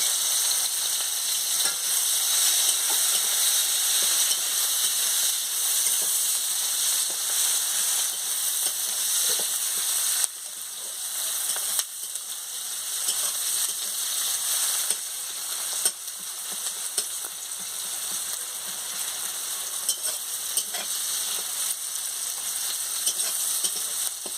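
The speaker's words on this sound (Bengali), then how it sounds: "পেঁয়াজ কুচি কাঁচা লঙ্কা টমাটম কুচি সবের সঙ্গে দিয়ে ভেজে নিচ্ছি" Chopped onion, green chilli and tomato sizzling and frying steadily in a pan, a continuous crackling hiss with occasional stirring scrapes, no talking.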